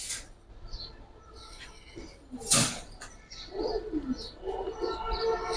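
Giribaz pigeons, including a bright red big-headed bird, coo in low, rolling bursts nearby, mixed with a few higher chirps and a sharp clatter partway through.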